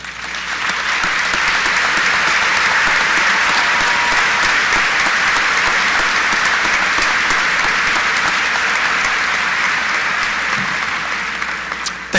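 Sustained, dense applause from a large graduation crowd recognizing education-track seniors, steady and loud for about twelve seconds with no talking over it.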